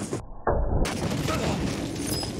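A Strela missile launcher fires in a first-person shooter, a single heavy boom with a sharp onset that leaves a dense, lingering roar of battlefield noise behind it.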